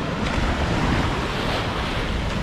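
Sea waves wash steadily over a pebble beach on the Turkish Riviera, a continuous broadband surf with light wind buffeting the microphone, loud and close throughout with no speech.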